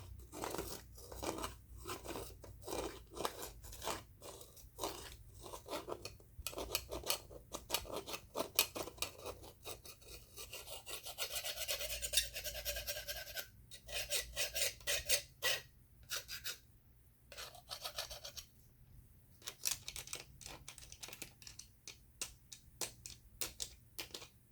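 Scratching and filing on a bleached animal bone skull, close rasping strokes in irregular bursts with brief pauses, dry and crunchy, alone without speech.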